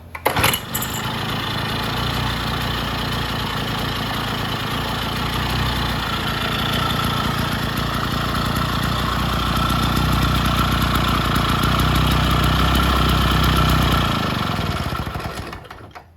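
A vintage Jacobsen greens mower engine, restarted on an old spark plug, idles steadily with a rough, chugging rumble, close and fairly loud, then cuts off near the end.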